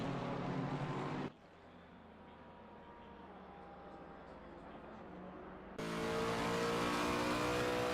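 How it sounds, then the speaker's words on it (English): A Lexus GT3 race car in a sim racing game at the Nürburgring roars loudly, drops to a lower droning engine note as it brakes for the hairpin, then surges back into a loud sustained rev. "Oh, sounds good, this Lexus coming down into the hairpin, goes a little bit wide there."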